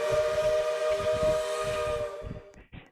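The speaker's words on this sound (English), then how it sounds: "It's just a steam whistle, and it's ridiculously kind of loud" A loud, sustained steam whistle from a Southern 4501 locomotive in a train simulator blows steadily for over two seconds, then cuts off, leaving a couple of short puffs of steam.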